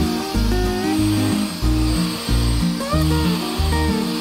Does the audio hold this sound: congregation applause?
no